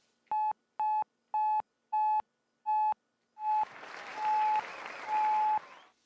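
A Eurorack modular synthesizer gives five short, identical, evenly spaced beeping tones, then as an envelope knob is turned the sound swells into longer, noisier washes with sustained tones, close and clean.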